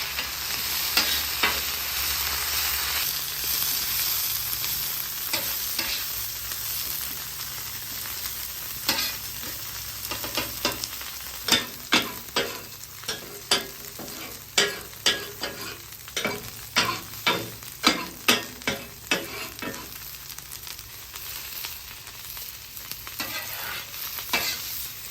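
Crispy beef frying on a griddle, a continuous soft sizzle punctuated by a series of sharp scraping and tapping strokes from a spatula, growing denser and more regular midway before easing off, with no talking.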